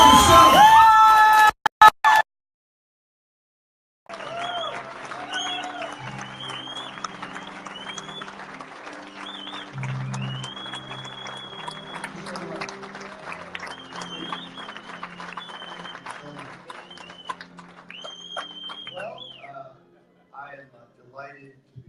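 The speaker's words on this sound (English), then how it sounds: "please give me a round of applause" A crowd at a political speech event bursts into sustained applause with cheers and whoops after a short stretch of talk and a pause, the clapping dense and steady before thinning out near the end.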